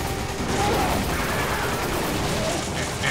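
Gunfire in the co-op video game Resident Evil 5 comes as continuous dense bursts of shots and booms. The sound is loud and sustained, with a voice faintly mixed in.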